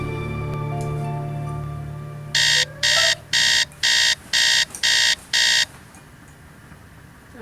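An alarm clock in the Nancy Drew: Secret of the Scarlet Hand video game rings as seven even, harsh electronic beeps in a steady rhythm, loud and close, and then cuts off into quiet room tone.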